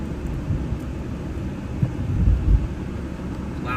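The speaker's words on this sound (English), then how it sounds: "Loud thunder." Rumbling thunder during a New Mexico storm, a continuous low roar with a couple of heavier swells, heard from inside a vehicle under steady wind-like noise.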